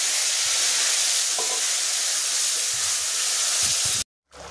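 Onions sizzling and frying in hot oil in a pan, a steady loud hiss with a few faint stirring clicks, then a sudden brief cutoff near the end.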